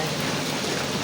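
Heavy rain pouring down with hail during a storm, a dense steady hiss of drops on surfaces throughout, close and unbroken, with no voices.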